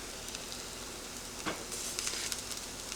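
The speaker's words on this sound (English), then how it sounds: "that's just to toast the tomato paste in the oil" Tomato paste toasts in hot oil in a pan for a lentil and vegetable dish, a soft, steady sizzle with light crackles and faint stirring scrapes, quiet and without voices.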